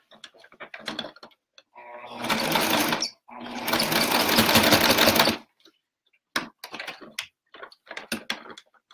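A sewing machine stitches oven mitts in two loud sustained runs, one short and one longer, with a brief stop between them. Short clicks and handling noises come before and after the runs.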